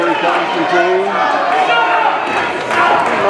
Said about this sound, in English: Crowd's trying to get behind Corey